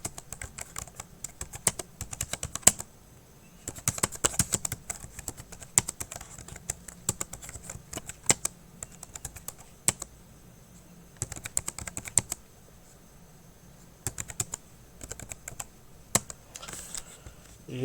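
Numbers being typed on a computer keyboard into an Excel spreadsheet: quick clusters of close, crisp key clicks separated by short pauses, repeating in bursts across the stretch with no talking.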